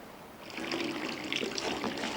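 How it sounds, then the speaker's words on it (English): Water poured into a specially made filming tank for fish, a soft splashing trickle that starts after a brief quiet moment and runs steadily, close and moderately loud. "Simply pour water into the tank and add fish."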